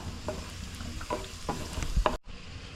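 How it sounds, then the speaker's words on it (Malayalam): Cashew nuts fry in ghee in a pan while being stirred, a continuous close sizzle broken by several rhythmic scraping strokes of the spoon, ending abruptly. "കശുവണ്ടിപ്പരിപ്പ് ഇട്ടൊന്ന് നന്നായി ഫ്രൈ ചെയ്തെടുത്ത് മാറ്റി വെക്കാം"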